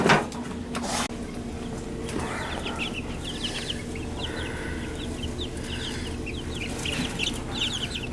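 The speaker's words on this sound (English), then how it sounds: "Chickens here." Chickens cluck and chatter in a dusty barn or shed, a steady flock murmur with scattered short clucks throughout, fairly close, over a constant low hum and an initial bang.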